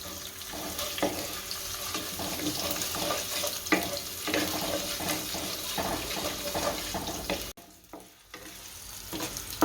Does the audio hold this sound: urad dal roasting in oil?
yes